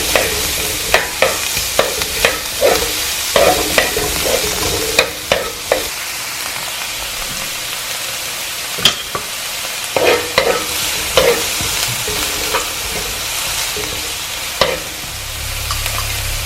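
Onions sautéing in a pan for chicken adobo, a constant sizzle punctuated by frequent sharp clacks and scrapes of a utensil stirring, close and with no speech.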